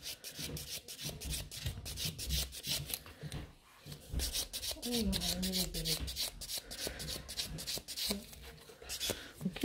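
Rapid, rhythmic scratching of a file across gel nails at a salon before a purple flower design is painted, a close, steady rasping with a short pause midway, while someone talks.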